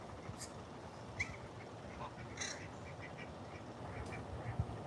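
Ducks quack in a pen where drakes sit together, with several faint, scattered calls rising over a steady low rumble of background noise.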